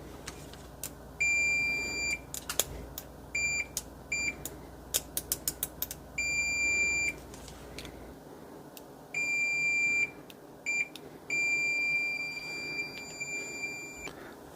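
An AstroAI AM33D multimeter's continuity beeper sounds in repeated high-pitched electronic tones, some held for about a second and others in quick short chirps, over a faint low hum.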